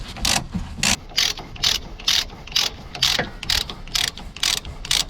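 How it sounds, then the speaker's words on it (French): A ratchet wrench with a Torx bit unscrewing the stabilizer link nut on an Audi A1 8X, about a dozen rapid bursts of clicking pawl in a steady back-and-forth rhythm, close and loud. "Alors là vous mettez la clé, la Torx au milieu et vous dévissez."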